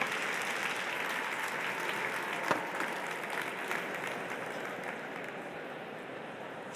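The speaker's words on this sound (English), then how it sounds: "Round of applause." Audience applause at a business conference session, a steady wash of many hands clapping that fades slightly toward the end, heard at a moderate distance with no talking.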